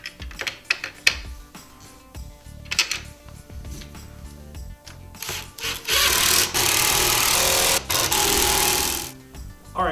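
A power driver runs screws into a RZR speaker grille in short, sharp bursts of whirring and clicking, followed by a longer sustained buzzing run and a final burst, all close up.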